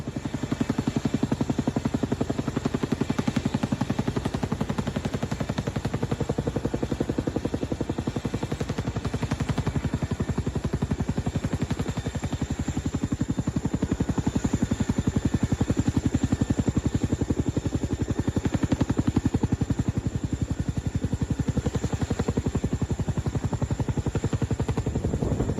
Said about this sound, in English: There isn't a challenge that this helicopter can't handle.